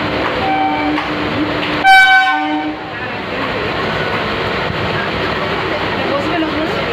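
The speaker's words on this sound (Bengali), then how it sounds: "দেখতে পেয়েছিস কেমন ট্রেন ঢুকছে?" A train pulls into a station, its rumbling rail noise steady throughout and a loud horn blast sounding near the two-second mark, with people talking over the din.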